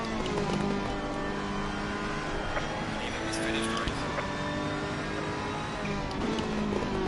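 Ferrari race car engine in Assetto Corsa Competizione, a steady loud racing drone with shifting harmonic tones throughout, under someone talking.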